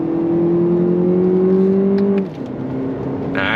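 A 2025 Lexus TX 500h F Sport Performance pulls hard under throttle, a loud, rising hybrid engine drone with an electric whine. It eases back sharply near the end, leaving a softer hum and a brief hiss.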